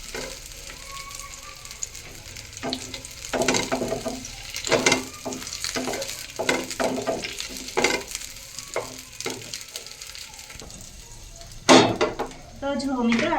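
Baby potatoes sizzle in a pan on low gas for dum aloo, with a soft steady fry broken by clinks and scrapes of stirring and a few louder knocks near the end.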